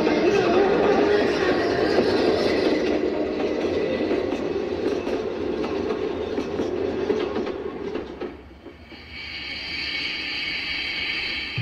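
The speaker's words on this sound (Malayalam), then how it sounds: "ഗുഡ്സ് ട്രെയിനിൽ കയറി" A goods train rolls past in a steady, loud rumble with clattering wheels, easing toward the end as a higher hiss takes over, with faint voices in the background.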